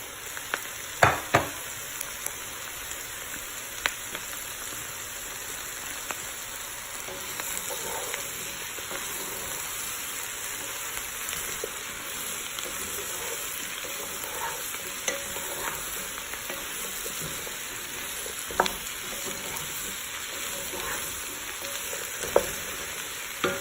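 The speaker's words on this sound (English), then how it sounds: "let's go ahead and add our squash and our potato" Squash and potato fry with garlic in a pot, giving a soft, steady sizzle with scattered clinks and stirring knocks throughout.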